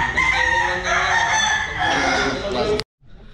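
A rooster crows once in a loud, close, drawn-out call lasting nearly three seconds before cutting off abruptly, followed by faint background noise.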